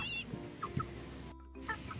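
Backyard chickens cluck softly in short, scattered calls close by, with a few higher squawks over a quiet background.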